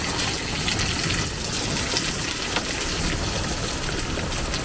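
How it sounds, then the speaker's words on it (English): Water from a hailstorm gushes out of a pipe into a pond, a loud, steady, close rushing and splashing roar that continues unbroken throughout with no talk. "look at the water gushing out there. Out of that pipe through the pond"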